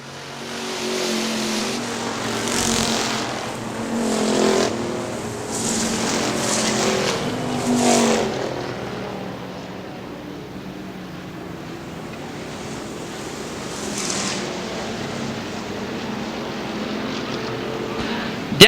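Factory stock race cars lapping Hartford Speedway Park in Hartford, Michigan, in a sustained engine roar that swells and fades as the pack passes, heard from a distance with a broadband outdoor wash.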